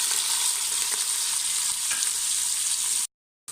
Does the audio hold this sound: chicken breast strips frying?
yes